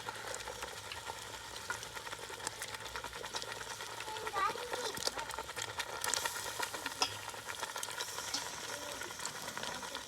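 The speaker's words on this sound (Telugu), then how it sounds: "చేపలు వేసుకుందాం ఇప్పుడు" Big chunks of Godavari fish drop into a simmering fish curry, setting off a steady, busy frying and bubbling sizzle that runs unbroken, with soft scrapes and movement layered over it.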